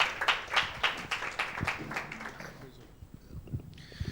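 A church congregation clapping loudly to glorify God, a burst of strong, fairly rhythmic claps that fades away over a few seconds and leaves quieter room noise.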